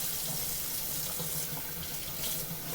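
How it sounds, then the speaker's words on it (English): Hot tap water runs steadily into a bowl holding rinsed shrimp for a shrimp and rice dish, a continuous, close, even splashing rush with no pauses or talk. "going to fill the bowl back up with some water"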